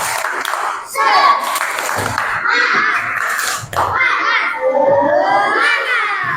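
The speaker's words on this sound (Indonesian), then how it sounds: "Tepuk semangat." Schoolchildren perform a rhythmic spirit clap in class, shouting a chant in loud bursts with clapping woven between, their voices rising and falling in a patterned cadence close to the listener.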